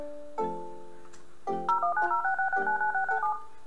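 Phone keypad tones in a Roblox airplane game, a short burst of beeps followed by a rapid run of dialing tones at an even rhythm, clean and close.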